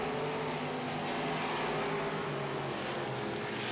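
Midwest Modified race cars roaring around a track at night, a continuous dense engine drone with layered pitches from several cars at some distance, no talk over it.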